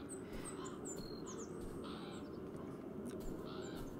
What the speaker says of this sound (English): Wherever this crow is. Crowing?